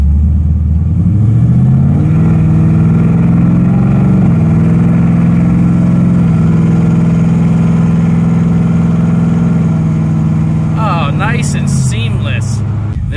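A Ford Mustang with a Lido tune revs from idle into a sustained partial-throttle pull, its engine note loud and close, holding steady before dropping back near the end, with no talking.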